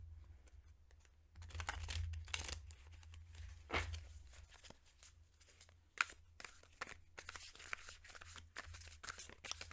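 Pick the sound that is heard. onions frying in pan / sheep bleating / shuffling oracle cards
shuffling oracle cards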